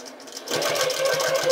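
A sewing machine stitches a quilt, running backward and then forward over the same seam in a steady, close mechanical whir with a rhythmic needle pulse, loud and alone.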